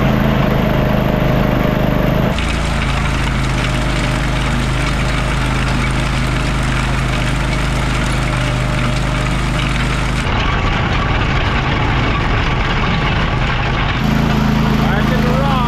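A small Ditch Witch trencher engine runs steadily and loud throughout at a construction site for a shed, a continuous mechanical drone with some shifts in tone partway through.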